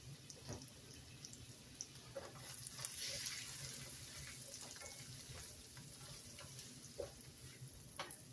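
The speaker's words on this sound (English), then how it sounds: "So while we saute these onions and celery in this butter" Onions and celery sautéing in butter in a pan, a soft continuous sizzle with scattered spoon taps and stirring, faint and close, no talking.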